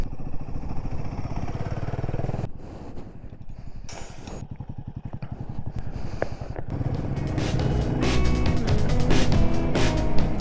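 A Royal Enfield Himalayan 450 motorcycle rides a dirt track across farmland, its engine a steady close drone with rough, bumpy rattling and a brief dip before the revs climb louder toward the end; no one speaks.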